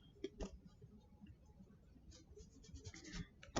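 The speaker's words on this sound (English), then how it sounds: "So you can take the washable markers and you can color the paper towel like this, okay?" Washable marker scratching across a paper towel in short strokes, a faint dry scraping with a few light taps, close and quiet with no talking.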